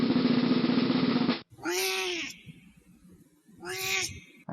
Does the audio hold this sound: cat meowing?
yes